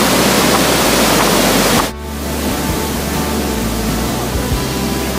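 Waterfall at Jajce in Bosnia and Herzegovina, a loud, close, broadband roar of falling water that briefly drops in level before continuing as a constant rush.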